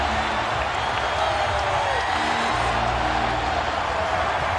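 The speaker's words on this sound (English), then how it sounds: "The crowd starting to celebrate" Basketball arena crowd at a Celtics versus Lakers regular season game roars in celebration, a dense sustained wall of cheering with a commentator's voice faintly beneath it.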